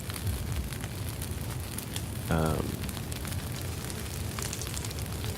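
Steady rain falls in the survival game Jaws of Extinction, a constant broadband hiss with a brief louder tonal sound near the middle, continuous throughout and fairly close.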